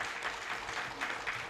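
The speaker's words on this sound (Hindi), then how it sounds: "इनको पहले बहुत जोर से तालियां दो" An audience at a tiger photo exhibition in Jaipur claps for honoured guests, a steady moderate round of applause from a crowd of people, with no clear speech on top.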